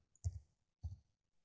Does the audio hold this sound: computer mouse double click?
yes